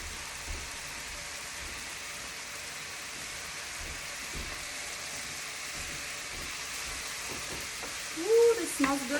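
Ground beef patties sizzle in a pan, a steady hiss and crackle like light rain that runs throughout, with a brief clatter of handling near the end.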